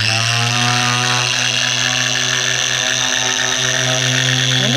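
A car polisher spins polish on a pad at a lower speed setting while spot-repairing cover damage on a car's paint, giving a loud, steady motor whine that holds unbroken throughout with no talking.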